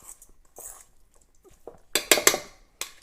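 Quinoa salad with beets, olives and celery gets tossed in a bowl, with a few scattered scrapes and clinks of a utensil against the dish followed by a quick cluster of louder clattering strokes.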